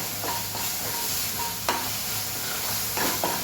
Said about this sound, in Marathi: आलं लसूण पेस्ट घालायची आहे. छान मिक्स करून घ्यायचंय.